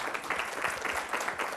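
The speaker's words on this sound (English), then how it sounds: "Give her a round of applause." Seminar audience applauding a volunteer who has come up front, a brief, fairly faint patter of group clapping with a loose, uneven rhythm.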